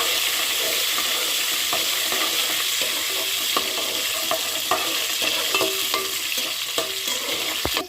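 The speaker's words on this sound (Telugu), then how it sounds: "ఉల్లిపాయలు, పచ్చిమిరపకాయలు యాడ్ చేసుకున్న తర్వాత వీటిని ఫ్రై అనిద్దాము." Onions and green chillies fry in a pan for a brinjal tomato curry, a steady close sizzle running throughout with light stirring scrapes and small clicks, no voices.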